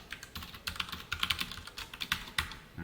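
Rapid, irregular clatter of computer keyboard keys, close and clear with no talking, as a short entry is typed while working in a MariaDB SQL session.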